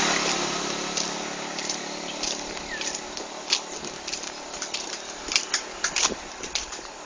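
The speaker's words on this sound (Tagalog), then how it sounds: "Oh, may motor." A motorcycle engine rumbles along a path, growing closer with a broad steady drone, while scattered footsteps and clicks sound nearby; no one speaks.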